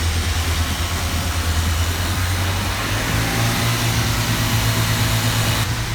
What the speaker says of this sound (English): They got the Celica running.